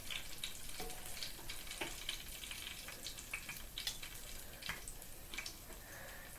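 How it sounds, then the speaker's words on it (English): A pork schnitzel fries in a pan, with a steady close sizzle, crackle and irregular spitting pops throughout, no voices. "It immediately started frying"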